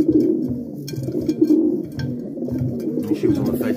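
Racing pigeons, widowhood hens in a loft on race day, coo steadily in overlapping low, throaty calls, with soft flutters and shuffling mixed in close by.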